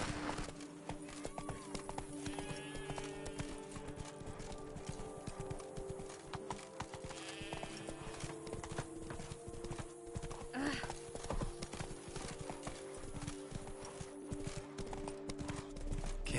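Horse hooves clip-clop in a steady trotting rhythm while riding in The Witcher, joined by faint creaks, jingles and ambient game sounds at low overall volume.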